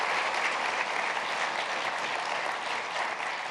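A summit audience gives a sustained round of applause, dense and steady clapping from a large crowd filling the whole stretch at even loudness.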